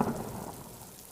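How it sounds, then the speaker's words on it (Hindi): Steady rain pattering down, a soft continuous wash of drops with a slightly heavier burst at the start, no voices. "बारिश में भीगते हुए वो चलने लगा"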